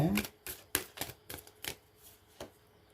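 Tarot cards shuffled by hand: a string of crisp, irregular flicks and riffles, near and clear, with a few sharper snaps early on and gaps between them.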